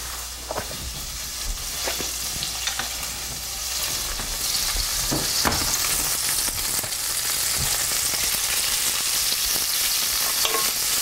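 Goat meat sears in real butter in a hot pan over a flame, a steady, loud sizzle and fry hiss running throughout with occasional sharp crackles and pops and light stirring clatter.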